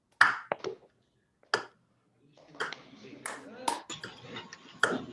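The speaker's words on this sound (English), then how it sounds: "let's try to clap together" A group of people clapping together in a music therapy meeting, several separate bursts of claps at irregular intervals, mixed with background voices and light clatter.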